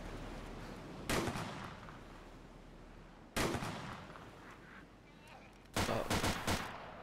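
Three sharp, loud gunshots crack out several seconds apart during a hunt on the coast, each followed by a short decaying echo over faint outdoor background.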